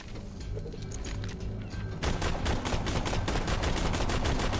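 Rapid, steady bursts of gunfire from an accurate gun in the shooter game Borderlands 2, loud and close. Quieter shots come first, then a dense, unbroken string of shots fills the last couple of seconds.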